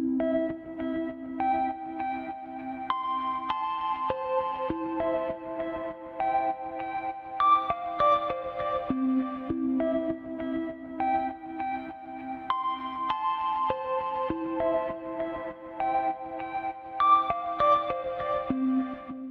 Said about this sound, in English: this little melody line, which is an audio loop, which is just playing back on top of everything else